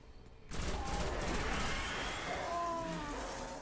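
Rapid gunfire from the Destiny video game, played on PS4, bursting in suddenly after a quiet moment and continuing as a loud, dense stream of shots.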